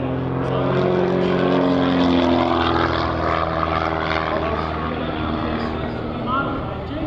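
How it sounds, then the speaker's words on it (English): A Fitz S1S aerobatic biplane from the Stewart Airplane Factory in Rodney, Texas, flying at the 2024 New Garden Airshow, its propeller engine droning loud and steady throughout, with an announcer talking over it. "He's flying the Fitz S1S built by the Stewart Airplane Factory in Rodney, Texas"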